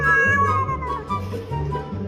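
A cat meows loudly and close by in drawn-out, wavering cries, with several calls running together over about two seconds.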